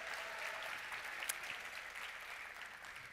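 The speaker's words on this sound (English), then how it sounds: "Let's get cheering again." An audience at the opening keynote of the 2023 Code for America Summit applauds steadily, a dense, fairly distant wash of clapping that holds for the whole moment.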